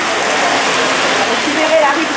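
Rain patters steadily on a Paris street during a downpour, a dense, even hiss of drops close by with no voices.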